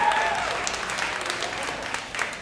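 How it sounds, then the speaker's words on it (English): An audience applauds the West Genesee Pop Warner football and cheer teams, a dense, even round of clapping that holds steady and tapers slightly toward the end. "can you give the whole teams a round of applause tonight, showing some support for West Genesee?"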